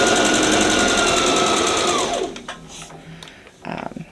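A sewing machine stitches an adjustable strap in a loud, close, steady run of rapid stitching that winds down and stops, followed by faint handling noises.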